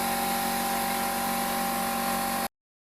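An air compressor runs steadily inside a soundproofed, carpeted box, a continuous mechanical hum with a constant tone that holds for over two seconds and then cuts off abruptly.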